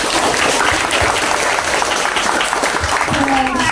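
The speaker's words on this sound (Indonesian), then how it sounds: "kita berikan tepuk tangan sekali lagi" Applause from an audience at a live Ramadan program hosted by a Muhammadiyah hospital in Temanggung, a dense steady wash of clapping over a few seconds with voices murmuring underneath.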